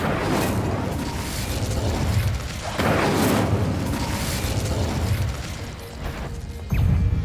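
Incendio fire spell cast in the Hogwarts Legacy video game, a series of booming whooshes and crashing bursts, loud and close, ending in a sharp impact.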